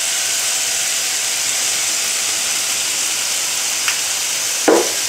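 Chicken pieces frying in a pan, a steady bright sizzle and hiss throughout, with a light clink or stir near the end.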